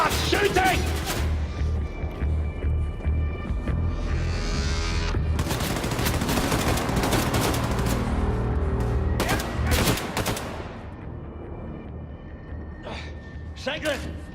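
Dense, loud gunfire and bursts of explosions rip through a Wolfenstein 2 cutscene, with rapid shots piling over a heavy low rumble before easing off near the end, under shouting voices.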